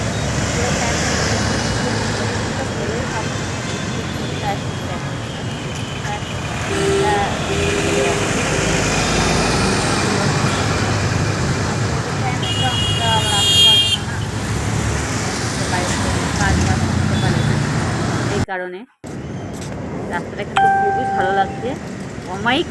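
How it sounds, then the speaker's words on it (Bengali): Buses and cars passing along a busy main road in Durganagar, a continuous roar of traffic with engine rumble and horn toots, close by, with a brief cut and quieter street sound near the end. "বাস যাচ্ছে গাড়ি যাচ্ছে যাচ্ছে সবই যাচ্ছে"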